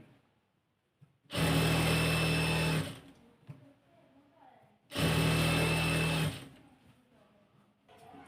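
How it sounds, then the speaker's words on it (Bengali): A sewing machine runs in two bursts of about a second and a half each, stitching the side seam of a georgette kameez, loud and close with a steady whir, with quiet pauses between. "তো এই যে সাইডটা আমি সেলাই করে নিচ্ছি"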